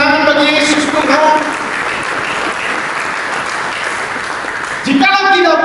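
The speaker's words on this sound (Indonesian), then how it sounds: "Mari kita berikan tepuk tangan bagi Yesus Tuhan." A church congregation claps together during a sermon, a loud, steady wash of many hands that begins under a preacher's voice and runs on alone until his speaking resumes near the end.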